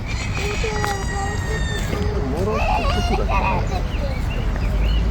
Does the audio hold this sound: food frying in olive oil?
no